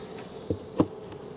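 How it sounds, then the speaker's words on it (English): Honey bees buzzing around an open hive, a steady low drone with a couple of brief louder buzzes as bees pass close. "let's get these bees back in here"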